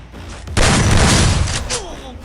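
Burst of gunfire from the Free Fire battle game, a loud dense volley of shots that starts abruptly and rolls on for over a second before tapering off into a fading tail.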